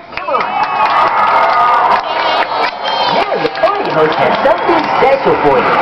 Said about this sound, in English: How about some applause here, folks?